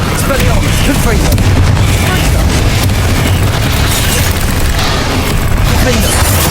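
Confringo blasting spells explode repeatedly during combat in Hogwarts Legacy, a dense, continuous barrage of booms and bursts layered with other spell effects and shouted incantations throughout.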